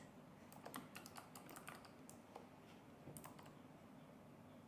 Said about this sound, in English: I hear somebody typing just a little bit. Oh, that's my mechanical keyboard.